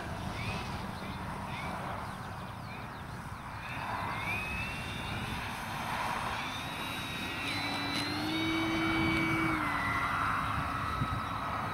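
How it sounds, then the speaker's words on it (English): An E-flite Focke-Wulf Fw 190A scale RC warbird flies low over a small grass field, its electric motor whining and shifting in pitch as it banks and climbs, steady and fairly close against outdoor background noise. "So Dino's just showing you how manoeuvrable she is and the power she's got in our small field"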